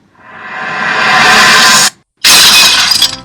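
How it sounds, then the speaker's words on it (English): Glass dolls are smashed in a bedroom, giving a loud, swelling crash of breaking glass that cuts off abruptly, then a second harsh shattering burst after a brief silence. "Diamond Tiara smashed the glass dolls in her room"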